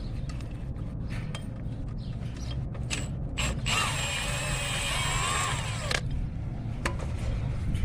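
Ratchet wrench clicking as bolts come off the timing belt adjuster on a 2001-2005 Honda Civic, a steady run of close mechanical ratcheting over a low workshop hum, with no talk.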